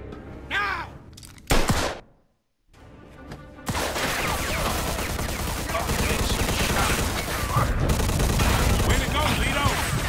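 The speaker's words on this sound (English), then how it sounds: "Vito, let's shoot this cocksucker." Heavy gunfire in the Mafia II video game, a sustained barrage of rapid shots and bursts that starts after a brief lull and runs loudly throughout, with voices shouting beneath it.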